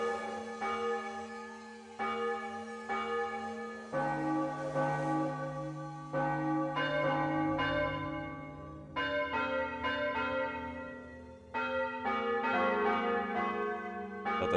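Church bells in Might and Magic IX ring a slow, ringing sequence of clear, resonant tolling strikes, each note sustaining and overlapping the next, with no speech.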